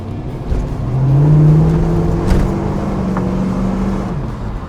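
A 1979 Pontiac Trans Am with its 403 V8 revs up and settles into a steady, deep engine drone, close and loud, with no talking.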